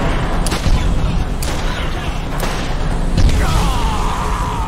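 Gunfire in the video game Borderlands: several sharp blasts spaced about a second apart over rumbling in-game action, with a rising electronic whine near the end.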